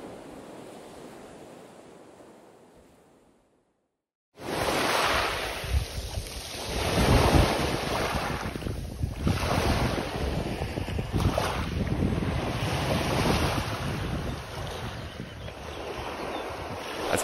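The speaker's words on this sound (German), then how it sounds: "In der freien Natur und mit dem Klang der tosenden Brandung in den Ohren." Loud, roaring surf breaking continuously on a Baltic Sea beach outdoors, with heavy wind buffeting the microphone; after a brief quiet moment the waves surge in and rumble steadily without pause.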